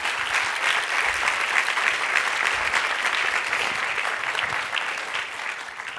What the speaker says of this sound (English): I like applause a lot